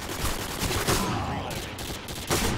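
Rapid automatic gunfire in the shooter game Modern Warfare 2, a dense burst of overlapping shots filling the whole moment.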